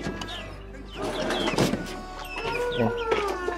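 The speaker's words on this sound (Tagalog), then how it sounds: "Ito yung mga manok natin tol." Young chickens at a backyard home cluck and chirp close by in overlapping bursts, with a low steady hum underneath and faint human voice mixed in.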